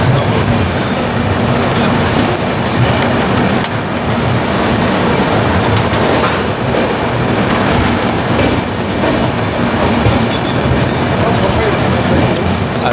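Humsafar Express train pulling into Kharagpur Junction at night, a steady, loud rumble of rolling wagons heard from the rear of the train, with faint clatter and voices talking over it.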